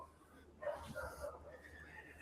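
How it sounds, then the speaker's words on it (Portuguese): A small dog barks outdoors, a few faint, distant yaps at a low level in the background, with no talk over them. "Eliette, a Belinha tá lá fora latindo."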